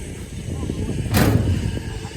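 A single heavy thump on a plywood floor, from hammering, rises sharply above a low rumbling background, then fades quickly.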